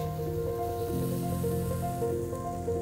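A steak seared in a very hot dry pan at around 350 to 360 °C gives off a continuous close sizzle, an even hiss over a low steady hum throughout the short stretch.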